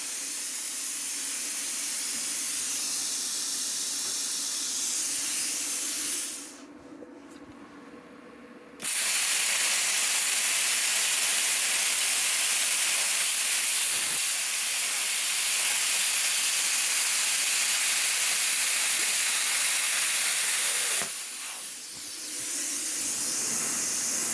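A bestarc BTC500DP 7th-generation plasma cutter running on 110 volts at 20 amps cuts through metal with a loud, steady hissing roar, broken by two short pauses where the arc stops before restarting; no talking.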